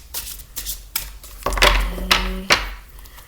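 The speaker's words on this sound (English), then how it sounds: "I'm gonna go ahead and shuffle these cards" A deck of tarot cards is shuffled in a few loud riffling bursts with soft taps and thumps between them, close up and with no talking.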